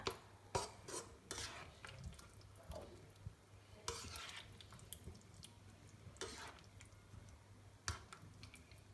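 Sweet potato and chickpea curry stirred in a pot, soft intermittent scraping and clinks from a spoon against the pot over a quiet low simmer, close but faint, no talk.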